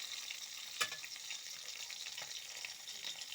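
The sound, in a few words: fish frying in a pan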